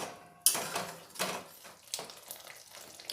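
Ginger-garlic spice paste stirred in hot oil in a pan, with faint sizzling and a few soft scrapes and clinks of a utensil against the pan.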